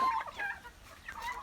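Chickens cluck nearby in a short run of overlapping, rising calls, with steady low rural background noise underneath.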